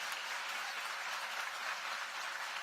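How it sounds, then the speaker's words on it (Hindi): Applause for the Prime Minister at a Delhi public event in New Ashok Nagar, a dense, even wash of many hands clapping, fairly faint and distant, continuous through the short stretch. "है तो जोरदार तालियां प्रधानमंत्री जी के लिए।"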